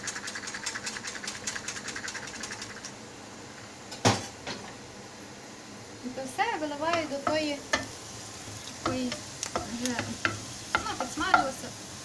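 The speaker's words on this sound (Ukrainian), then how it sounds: "перемішую вінчиком" A whisk clatters rhythmically around a bowl, mixing dough with sour cream for potato vareniki, a quick scraping and tapping stir with a brief knock partway through, as someone speaks softly.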